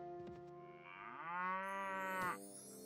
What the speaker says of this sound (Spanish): Mira, aquí están las vacas.